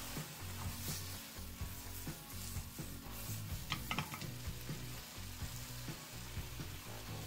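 Sesame seeds frying with poultry in a pan for a sauté, a steady close sizzle with occasional stirring scrapes and soft utensil knocks.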